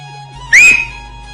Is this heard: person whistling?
yes